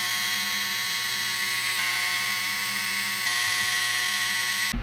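Small electric driver with a 2.5 mm bit whirring steadily as it backs out transmission screws on a Vanquish RC crawler, a close, continuous high whine with slight pitch shifts and a short click at the end.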